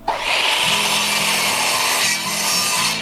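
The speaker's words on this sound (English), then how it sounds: "I set my saw to cut everything up at 45 degrees" Power saw cutting pre-stained hardwood decking at a 45-degree miter, a loud, close, sustained rasping whine lasting the full three seconds, with no talk.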